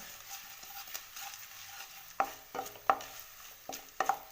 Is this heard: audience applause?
no